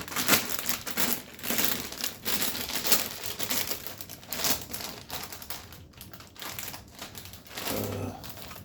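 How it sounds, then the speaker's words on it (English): Plastic crinkles and crackles in irregular bursts as an empty cereal bag is handled close by, with brief quieter gaps between rustles. "Here's the bag that cereal came in."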